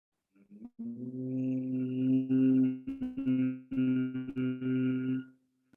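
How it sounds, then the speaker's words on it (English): A group hums together while breathing out during a stress management session, a steady, deep, buzzing drone held for several seconds with slight wavering before fading out. "Now breathing out while humming."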